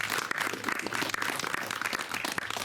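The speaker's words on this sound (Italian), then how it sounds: "Un applauso." Audience applause at a poetry and song evening in Ossi, steady dense clapping filling the room for the full stretch without pause, moderately loud and close.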